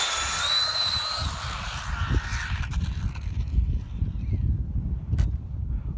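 A Traxxas Slash short-course RC car being pushed toward 100 mph, its electric motor whining high as the throttle is eased on, then fading as rumbling road noise and passing-vehicle wind take over.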